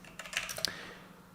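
Several quick keystrokes on a computer keyboard while entering a Docker command, a short burst of light clicks close by, followed by a quiet pause.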